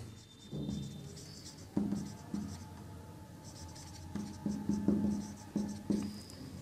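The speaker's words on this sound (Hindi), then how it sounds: "यहां लिख देते हैं इसको" Chalk or marker strokes on a board during a maths lecture on triangle area. The writing comes as soft, close taps and scrapes in short bursts with quiet gaps between.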